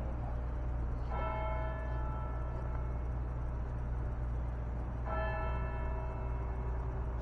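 Two separate church bell strikes, a few seconds apart, each ringing out and slowly fading over a constant low hum.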